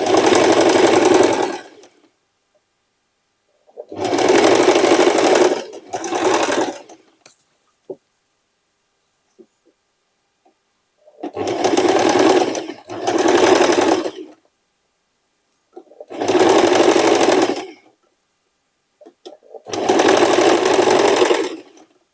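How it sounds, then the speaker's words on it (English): A home sewing machine stitching a hooded denim jacket made from old jeans, running in five or six loud bursts of rapid, buzzing stitching a second or two long, separated by quiet pauses with faint handling clicks. "I will show you with my stitching machine."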